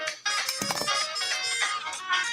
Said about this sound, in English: I thought it was like a phone or something like that.